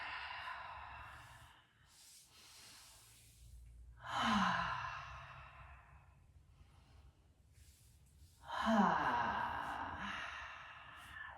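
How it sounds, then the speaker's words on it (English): Two deep breaths during a gentle beginner's yoga flow, each a long, audible inhale swelling into a breathy sighing exhale, close and fairly loud, with quiet pauses between them. "Big inhale and exhale."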